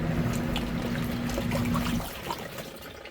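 Water flows steadily into an RV washing machine with a close, continuous trickling rush and a faint hum, then the flow softens and thins toward the end.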